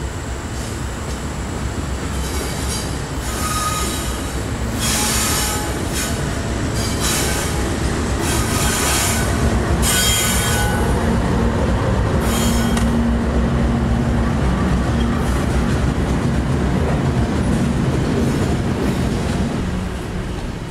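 An HO scale model train couples up to loaded coal hopper cars on a model railroad layout. Close, continuous rolling rumble comes with periodic wheel squeals and clicking rail joints.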